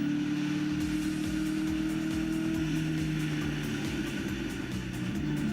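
Muscle cars, including a Chevrolet Nova, race on a circuit in a historic racing event, with several engines droning and rising in pitch together at a distance and a rhythmic pulsing rumble underneath.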